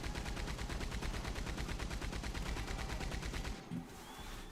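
Rapid automatic gunfire in the Red Dead Online video game: a fast, even burst of shots, loud and continuous for about three and a half seconds, then it stops and only faint background sound remains.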